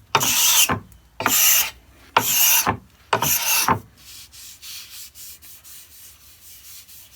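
Stanley No. 80 cabinet scraper shaving wood: four loud rasping strokes, each lasting about half a second with short gaps between, followed by quieter, rapid scraping passes.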